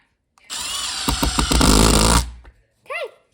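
A Milwaukee cordless drill whirs loudly for nearly two seconds with a few brief stutters in its motor, then stops; a short voice follows after a pause.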